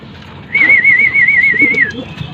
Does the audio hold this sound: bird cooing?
yes